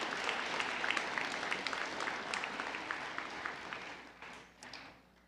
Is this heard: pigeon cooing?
no